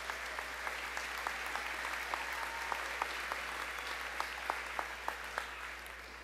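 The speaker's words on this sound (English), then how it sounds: "So graduates, how about a round of applause" Graduates and families at a commencement ceremony applaud in a large hall, a sustained bed of clapping with scattered sharper individual claps standing out, heard at moderate distance with no talk.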